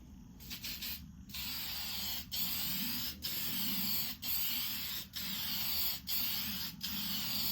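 Satin top coat sprayed onto painted furniture in a series of close hissing bursts, each a few seconds long, separated by brief pauses, with no one talking.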